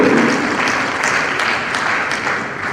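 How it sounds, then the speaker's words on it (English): Steady audience applause rolls through a hall at an education policy launch, loud and continuous as a guest steps forward, with no voices rising above it. "Please, a round of applause as he comes forward."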